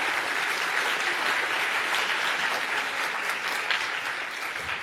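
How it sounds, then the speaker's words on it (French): Sustained applause from an audience for presenters at a Minatec lunchtime talk, a dense, even wash of many hands clapping at steady volume from start to finish, with no voices over it. "On va applaudir nos présentateurs."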